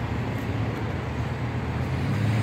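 A steady, low engine rumble from a large bus on Prechistenka street in Moscow, with constant traffic noise and no voices.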